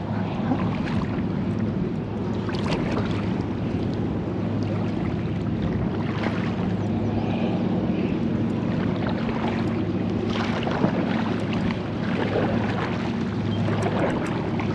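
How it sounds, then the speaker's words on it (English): On a river, a small craft rides out the lingering waves left by a large passing boat's wake, with steady churning water, a low engine drone and wind gusts on the microphone across a long, unbroken stretch. "Like lingering waves."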